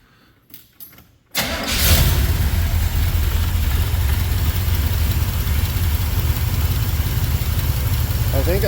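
A 1975 Corvette engine catches after a short cranking sputter and settles into a loud, steady idle with its carburetor freshly adjusted, running on unbroken to the end.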